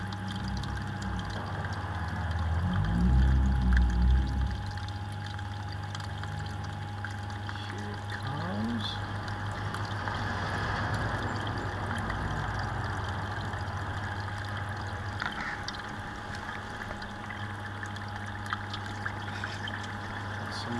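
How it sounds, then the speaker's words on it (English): Water trickles and pours steadily from the bottom of a soda bottle bell siphon in an aquaponics setup, a continuous close draining flow with a brief louder gush early on and a low steady hum underneath. "Some water draining out of the bottom. Not a siphon yet though."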